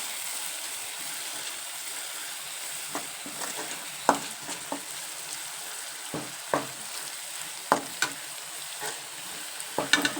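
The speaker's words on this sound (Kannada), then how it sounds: "ನೋಡಿ ಇದನ್ನು ಈ ಥರ ಫ್ರೈ ಮಾಡಿಕೊಂಡು" Turmeric and spices fry in a pan for dhaba-style egg masala. A quiet, continuous sizzle is broken by regular scraping stirs that grow busier toward the end, with no speech.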